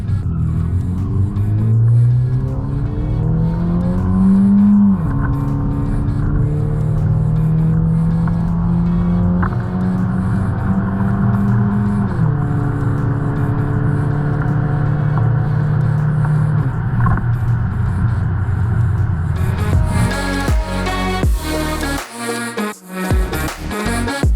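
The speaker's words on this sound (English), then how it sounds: "So first, this is my best run in the automatic car." Chevy HHR SS with an automatic transmission on a quarter-mile drag run: a loud, continuous engine roar climbs through the gears with audible shift breaks, holding steady before easing off near the end.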